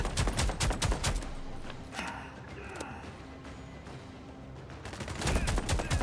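Rapid automatic cannon fire from point-defence guns in The Expanse: Osiris Reborn, loud bursts of repeated shots at the start and again at the end, with a quieter stretch of battle noise between them.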